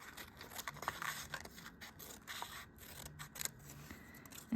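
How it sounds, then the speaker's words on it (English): Scissors snip through a folded paper rectangle in a series of short, quiet cuts and scrapes, with soft rustles of paper and no talk. "I can take my scissors"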